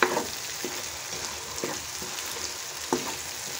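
Eggs go into sizzling, well-fried masala for an aloo anda curry, giving a steady close frying hiss broken by a few soft stirring clicks.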